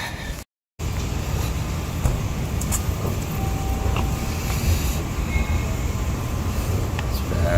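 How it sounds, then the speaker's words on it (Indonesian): Steady rumble of Nishikasai station in Japan, a continuous low-frequency drone of rail machinery and platform hum with faint scattered clicks and a brief thin tone, fairly loud and unbroken apart from one short dropout near the start, with no voices. "Sudah sampai di stasiun Nishikasai. Sekarang tinggal nunggu keretanya aja"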